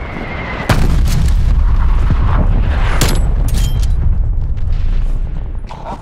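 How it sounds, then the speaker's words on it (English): An artillery barrage in the multiplayer shooter Call of Duty: Cold War, heard as a heavy, rumbling onslaught of deep booms and sharp cracking impacts that roll on loudly and continuously, close by. "Woods requesting artillery barrage"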